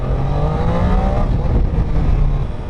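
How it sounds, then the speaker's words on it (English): A Triumph Daytona 660 motorcycle accelerating hard in first gear, its engine note rising steadily and loudly throughout without a break, with no talking. "let's do a quick first gear pull"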